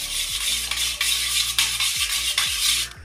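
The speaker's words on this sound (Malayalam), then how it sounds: "വിനീഗർ ഒഴിച്ചതിന് ശേഷം നമ്മൾ നന്നായി മിക്സ് ചെയ്യാം." Milk and vinegar stirred together in a bowl, with a steady spoon scraping and swirling in repeated strokes, close and fairly loud with faint clinks against the sides.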